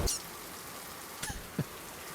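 Soft, steady rain patter in the video game Super Kiwi 64, a faint continuous hiss broken by a couple of sharp clicks near the end.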